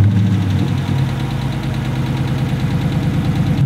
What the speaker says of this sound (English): Now let's take a listen to the motor.